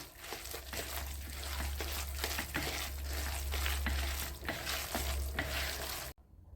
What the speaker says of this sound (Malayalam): ഇനി നമ്മൾ നന്നായി ഒന്നുകൂടി ഇളക്കി യോജിപ്പിക്കാം